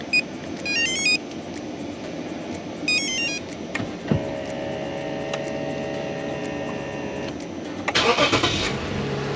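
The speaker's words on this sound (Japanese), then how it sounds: "これでちょっとエンジンかけてみます" Chiming beeps sound, then a car engine with a supercapacitor fitted cranks and starts, settling into a steady idle with a low hum nearby.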